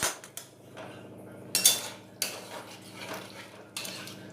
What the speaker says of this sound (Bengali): এবারে নাড়াচাড়া করে একটু মিশিয়ে নেব